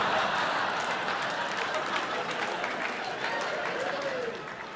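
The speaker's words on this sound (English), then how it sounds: "Put your hands together for Christopher Macarthur-Boyd." A comedy club audience in Glasgow breaks into loud, sustained applause and cheering for a stand-up comedian, steady throughout before tapering slightly at the end, with voices mixed in the crowd noise.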